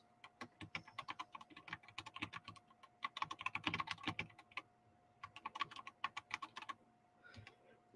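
Quiet typing on a computer keyboard, rapid clusters of light clicking keystrokes in irregular bursts with short pauses, close and alone without voices.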